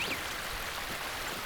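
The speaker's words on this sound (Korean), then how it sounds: "물 흐르는 소리도 그냥" Water flows steadily along a mountain stream near a Korean temple, a continuous broadband rush with no voices.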